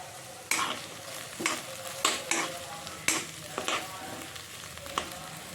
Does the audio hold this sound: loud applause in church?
no